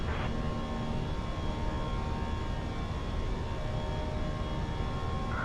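American Airlines jet climbing out after departure from Dallas, heard from the cockpit as a steady, even roar of engines and airflow with a faint tonal whine, continuous and moderately quiet, with no voices.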